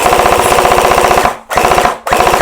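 An AR15-style airsoft gun fires rapid full-auto bursts. A loud, fast buzzing rattle is broken by two brief pauses and resumes immediately each time.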